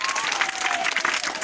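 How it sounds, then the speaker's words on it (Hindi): A studio audience claps loudly and steadily for a winner on a quiz game show in a school classroom setting, dense applause throughout with a faint voice underneath. "जोरदार ताली बजाइए उनके लिए।"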